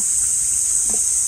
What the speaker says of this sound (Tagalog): Plus yung tunog ng kuliglig.